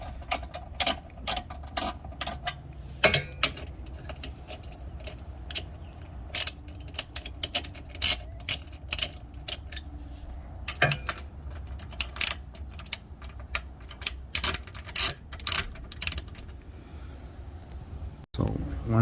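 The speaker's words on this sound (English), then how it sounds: "you can loosen them using the ratchet, and then use your hand to remove them" Ratchet clicking in quick irregular bursts while loosening 7 mm bolts on a cover under a Ford Explorer ST, sharp close ticks with pauses between runs and a faint background hum.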